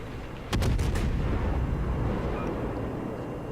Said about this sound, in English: here comes the Conqueror's shells